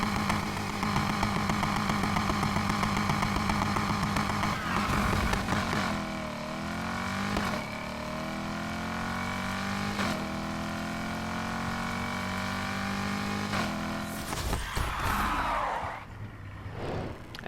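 Car engine in the Need for Speed Heat racing game revving hard for a drag launch, a sustained loud drone with rising and falling pitch sweeps as gears shift from second down to first, alone without talk.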